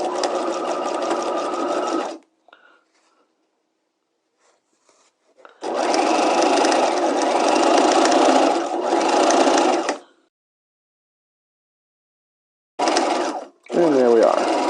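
A sewing machine stitches a 1/2 inch welt seam, running in long steady bursts of about two and four seconds separated by pauses, with a shorter back-tack run near the end, loud and close with no talk over it.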